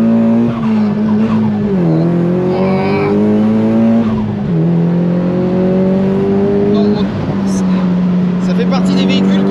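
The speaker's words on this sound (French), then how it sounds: "On fait un petit départ arrêté." A Nissan S15 Spec R makes a standing start, its engine revving hard through quick gear changes with dips between them, tires squealing at the launch, loud and close, and voices come in briefly near the end.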